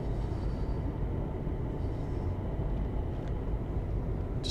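A Class 350 electric train in Train Sim World 5 runs on the West Coast Main Line approaching London Euston, giving a continuous low rumble of motion with faint higher clicks and squeaks over the steady drone.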